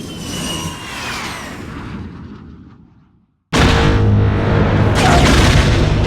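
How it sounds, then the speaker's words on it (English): Seismic charge explosions from the asteroid field battle in Star Wars Episode II: Attack of the Clones. A rumbling passage fades to near silence, then a sudden loud, deep blast with a sustained roar and a second surge follows. "he detonates those little mini seismic charges"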